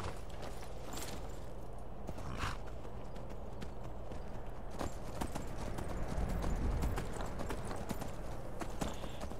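Horse hooves clip-clop steadily through Skyrim, a close, even walking rhythm over low ambient rumble with a few sharper knocks, no talk over it.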